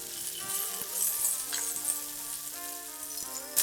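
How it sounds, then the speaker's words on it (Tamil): Sliced onions sauté in a pan for Jaffna-style egg curry, giving a soft, steady sizzle with a few light utensil clinks, close and fairly quiet. "வெங்காயம் போட்டு வதக்கிட்டு"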